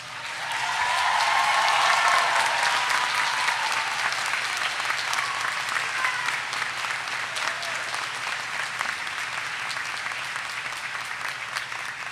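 An audience at the Rockingham Community College summer 2013 graduation ceremony applauds the new graduates, a loud, sustained wash of clapping that swells quickly and then holds steady.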